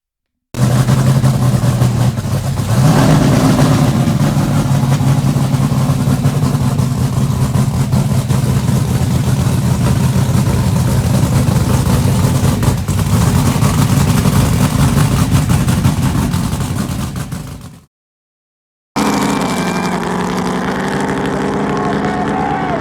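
A home-built dragster engine roars loud and steady as it is tuned, then cuts out briefly before a second run on the salt flats brings back a rising, sustained engine drone.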